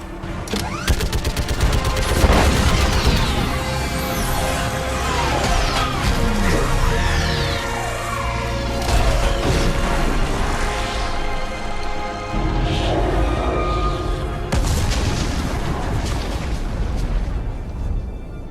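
Sustained heavy gunfire and booming explosions in the video game Mass Effect 3 during a space battle, a loud dense barrage of rapid shots and blasts running continuously throughout.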